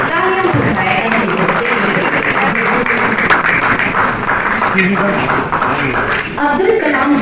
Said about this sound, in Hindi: तालियां हो जाए ऐसे